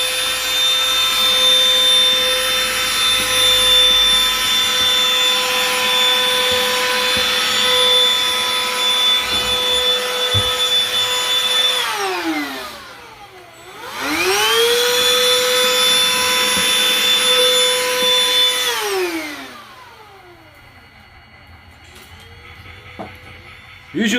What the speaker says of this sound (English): make sure you got a vacuum to suck up any kind of dust